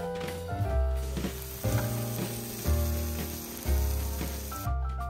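Steak cooking on a hot iron griddle plate at a steakhouse in Okinawa, a steady sizzle and frying hiss running throughout, with repeated clinks and soft thuds over the top as the meat is handled.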